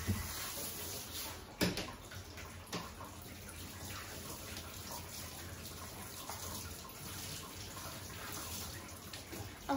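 A shower head runs water steadily while a dog is rinsed during grooming, producing a soft continuous spray and splatter with a few brief bumps.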